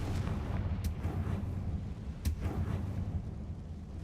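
A Confringo blast spell in Hogwarts Legacy erupts with deep, rumbling booms, two sharp cracks standing out over a continuous heavy low roar.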